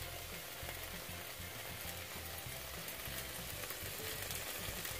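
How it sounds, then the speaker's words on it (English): Three tablespoons of butter melting in a pan beside a mushroom and onion mix for creamy mushroom soup, giving a steady, soft sizzle and fry close up, with faint rhythmic scraping and no voices. "And let's add in our butter. So 3 tablespoons of butter go in."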